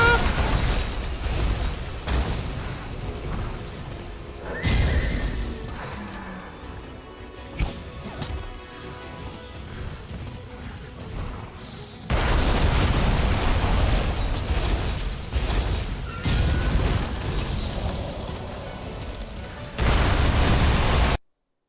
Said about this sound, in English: You guys just see that fireball shoot past me?